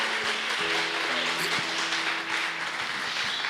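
A church congregation applauding, a dense wash of clapping filling the space with a sustained organ or keyboard chord underneath, steady and loud throughout.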